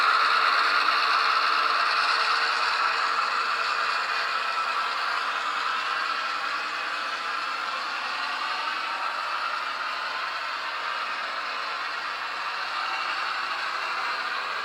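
Steady rattling diesel drone from an Athearn GP38-2 model locomotive's Tsunami sound decoder at a higher speed step, louder at first, dipping slightly, then holding even without anyone talking.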